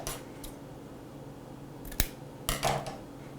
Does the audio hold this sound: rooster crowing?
no